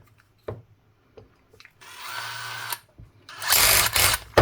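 A small power drill with a small bit whirs in short bursts, first a sustained run and then a louder, rougher spell, with clicks and handling knocks between.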